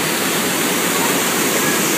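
Water rushes steadily at Crooked Creek, a constant dense broadband roar like a small waterfall, close and continuous with no voices.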